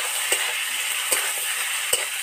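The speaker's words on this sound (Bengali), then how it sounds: "ঢেঁড়স আর ছোট ছোট আলুটা দিয়ে দিলাম" Okra and small potatoes fry in a pan with onions and bay leaf, giving a steady loud sizzle broken by three scraping stirs at regular intervals.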